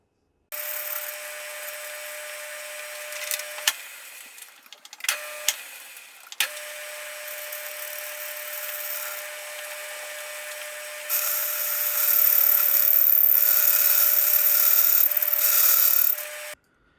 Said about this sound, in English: I'm taking very light passes here with my fine boring bar to get a good shoulder at the end